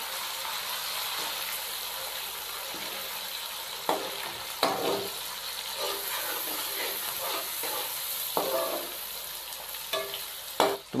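Finely chopped tomatoes stirred into sizzling ginger garlic paste in a hot pan, a steady fry hiss under occasional scraping strokes of a spoon against the pan.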